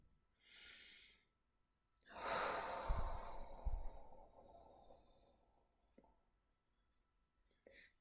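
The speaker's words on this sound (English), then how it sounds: "let's start with taking in some deep breaths into our center" Slow, deep breaths taken in during a guided relaxation session, each long inhale and exhale soft and close, separated by quiet pauses with a few faint clicks.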